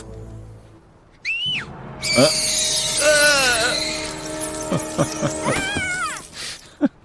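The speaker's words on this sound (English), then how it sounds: "I figured after that scream you'd be back" A scream in the King's Quest game, made of sharp rising and falling squealing cries, one brief and the rest in a longer loud, wavering burst, with clattering effects at the end.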